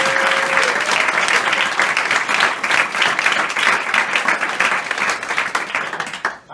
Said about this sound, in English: So let's give her a huge round of applause